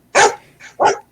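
A dog barks twice, separated by a softer yelp, in a household kept with four dogs; the barks are close, loud and sharp, with no talking over them.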